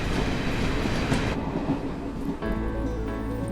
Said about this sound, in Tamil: ட்ரெயின் வந்துருச்சு